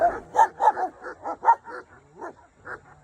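German Shepherds kept at a hoarding site bark in a loud, close run of about a dozen sharp barks, some yipping and whimpering, with no talk over them.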